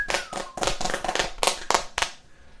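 A small group claps for a friend reaching nearly a year sober during a casual live stream, with about eight sharp, close, uneven claps over two seconds.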